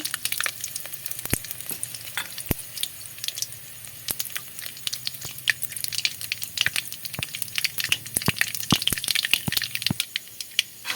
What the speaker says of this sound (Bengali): তেলটা গরম হয়ে গেছে দিয়ে দিচ্ছি সর্ষে দুটো শুকনো লঙ্কা